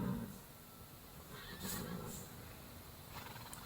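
A horse neighs while being saddled and haltered in a stable, with a loud whinny in the middle, a few hoof clops and shuffling handling noises close by.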